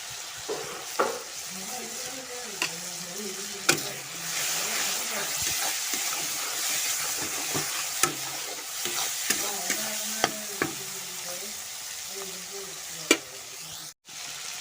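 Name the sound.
spices with ginger-garlic paste frying and being stirred in pan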